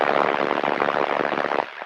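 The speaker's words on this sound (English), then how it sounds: "Here's the crickets a little louder." Crickets chirp in a steady, pulsing rhythm through hissy radio noise, loud and continuous, then thin out near the end.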